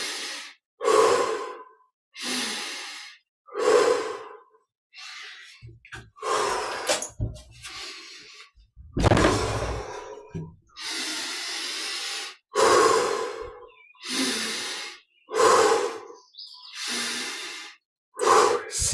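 Deep, slow breaths during guided meditation, a long series of steady inhales and exhales with airy hiss, close and unhurried, repeating in an even rhythm with brief pauses between.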